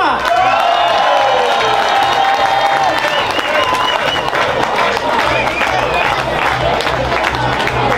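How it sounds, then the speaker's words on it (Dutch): A carnival crowd at a Boemeldonck prince and court-ladies ceremony gives Bas Zuidema loud, dense applause, mixed with cheers, whoops and shouting voices, and the noise stays steady throughout. "Een groot applaus voor Bas Zuidema"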